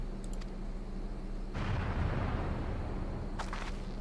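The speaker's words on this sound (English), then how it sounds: "Cannon fire! Where did it come from?" Cannon fire in the Final Fantasy XIV video game, a single deep booming blast that rolls on for a couple of seconds after a low ambient hum, with faint clicks at the start and end.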